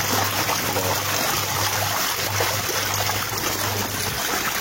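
Water running steadily into a washing machine during the first rinse, with no soap added, makes a constant rushing trickle over a low, pulsing hum throughout.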